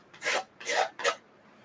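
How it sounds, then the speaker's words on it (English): Paint being scraped across a canvas with three short, close rasping strokes, each about a quarter second long, with brief pauses between them. "kind of scrape a little bit."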